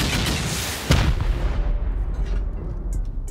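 Rockets fired at a base during a raid in a survival video game, a heavy booming blast with a sharp crack near the start, then a rumbling decay fading over a few seconds.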